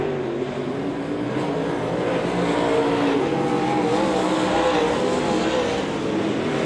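Race cars circling Devil's Bowl Speedway, including the 88 car, in a continuous loud engine roar that holds steady throughout with no break.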